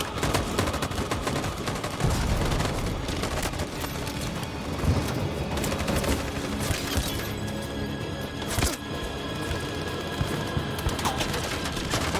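Dense gunfire crackles throughout, sustained bursts of shots and heavy impacts layered into a loud, continuous barrage with a few sharper blasts standing out, no clear talk over it.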